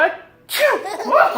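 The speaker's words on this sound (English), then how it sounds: "You got the sneeze?" A father lets out a single loud, close sneeze after a brief quiet intake, the sharp burst trailing into a breathy, voiced release.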